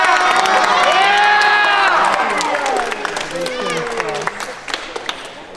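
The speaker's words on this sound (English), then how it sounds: "So, do you guys want to do a cheer for us real quick?" A FIRST robotics team and its young supporters cheer together in a loud, echoing burst of overlapping shouts and whoops that gradually thins into scattered calls and a few claps.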